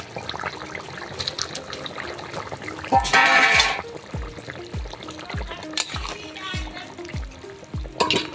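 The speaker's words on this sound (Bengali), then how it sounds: "বন্ধুরা, এই ভাজা মাছগুলো এবার আমরা ঝোলে ছেড়ে দেবো।" Fried fish pieces being dropped into simmering curry gravy in a home kitchen, a bubbling sizzle with a loud splash and hiss midway, then a series of regular soft plops and clinks every half second, close by.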